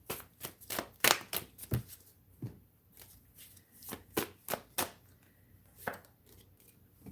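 Tarot cards being shuffled by hand: a run of crisp, close riffling and slapping bursts in an uneven rhythm, some louder than others, with no talking.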